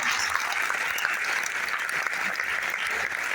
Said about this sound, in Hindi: डायरेक्ट सेलिंग, तालियां बजाएंगे जबरदस्त